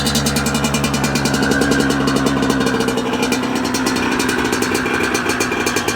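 A Yamaha YZ85 dirt bike idles loudly up close after a cold start, its small engine putting out a steady, rapid buzzing putter throughout, with no speech.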